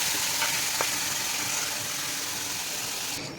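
Milk cream bubbles and hisses in a hot wok as ghee is made, giving a steady, close frying sizzle with a couple of faint clicks.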